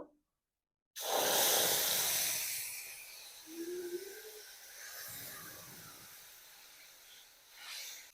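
Tomato paste hits hot oil in a pan after tempering spices for a low-oil cauliflower curry, producing a loud, sudden hissing sizzle that starts abruptly after a second of silence and slowly fades.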